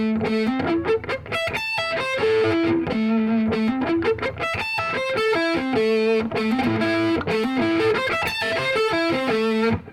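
A distorted electric guitar plays fast, repeating sweep-picked arpeggios, lightly palm muted, loud and close, with the notes climbing and falling in a steady cycle.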